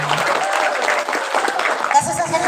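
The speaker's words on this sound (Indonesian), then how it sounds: "ya boleh tepuk tangan memang harusnya ya" Applause at a school event: clapping from a crowd under a loud voice over a PA, with the clapping swelling briefly near the end.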